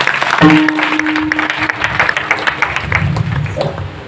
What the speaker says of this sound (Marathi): एकदा त्या कलाकारांसाठी जोरदार टाळ्या झाल्या पाहिजे.